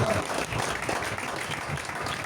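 A church congregation claps in a dense, continuous burst of applause, with voices mixed into the crowd noise.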